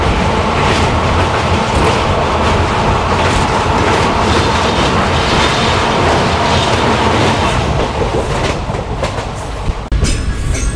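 Passenger train rolling along the tracks between Siliguri and the Dooars, loud and close with a continuous rumble and rhythmic clickety-clack of the wheels, changing character near the end.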